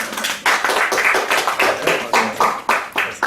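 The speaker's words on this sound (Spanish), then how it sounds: "Es un aplauso, ¿verdad?" Short burst of audience clapping after a conference talk at an international science and technology course, with distinct, rhythmic individual claps from a small group, close and fairly loud.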